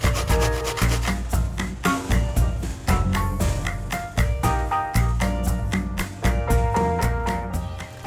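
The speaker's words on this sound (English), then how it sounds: "I'm going to start on the big side of the grater and with the zucchini" Zucchini being grated on the large side of a box grater, a steady run of close, rhythmic rasping strokes that continue without pause and with no talking.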